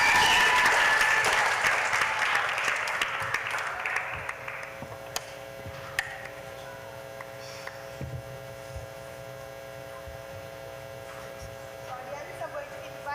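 Audience at a primary school spelling bee applauding the winners: a fairly loud burst of crowd clapping that fades out after about four seconds, leaving a quiet room with a steady electrical hum and occasional small knocks.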